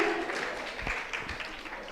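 Steady applause from an audience at a temple quiz program, a dense wash of clapping continuing throughout at moderate volume.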